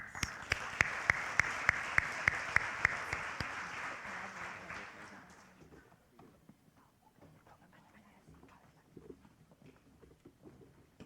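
Applause at a high school senior awards ceremony: a crowd claps steadily with a few sharp louder claps, then the clapping fades out after about five seconds into quiet room noise and faint shuffling.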